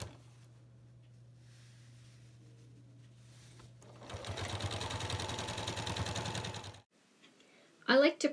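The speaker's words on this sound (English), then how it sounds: "I'm using a 1/4 inch seam attachment on my AccuFeed Flex foot to stitch the binding to the right side of the quilt." A Janome sewing machine fitted with an AccuFeed Flex foot and a 1/4 inch seam attachment stitches binding onto a quilt, running steadily for about three seconds at close range after a low hum, then stopping.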